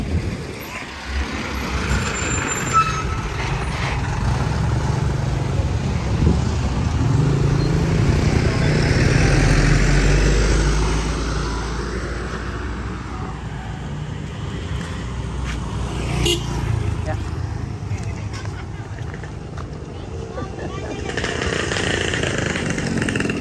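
A sold 2012 car drives off, its engine rumble swelling mid-clip and then fading, with other road traffic passing nearby and some talk in the background.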